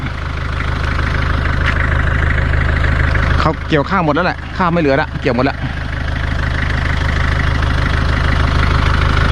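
A Toyota Hilux Mighty X pickup engine idles throughout with a low, even rumble beside rice fields, while a person talks briefly over it in the middle.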